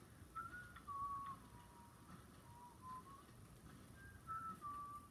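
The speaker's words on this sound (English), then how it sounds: "I am doing my little whistle now" A man whistles a short, wavering tune in a quiet setting, the thin melodic notes coming in a few separate phrases with gaps between them, faint and unaccompanied.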